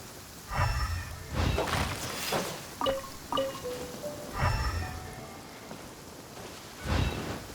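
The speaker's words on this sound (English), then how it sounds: "The rain won't slow me down." Rain falls steadily in the Genshin Impact video game, a soft, even wash of drops running under the whole stretch. Louder bursts and low rumbles that may be thunder come and go at intervals.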